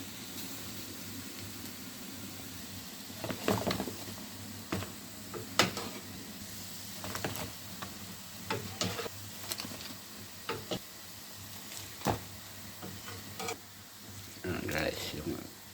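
Second batch of lechon bagnet pork belly frying in oil at home, a faint steady sizzle broken by sharp pops and crackles at irregular intervals, with a voice talking quietly at times.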